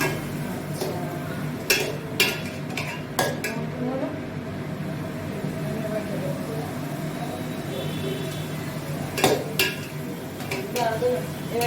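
A utensil stirs cooked rice in a pan over a low gas flame, making scattered metallic clinks and scrapes at close range against a soft background hum.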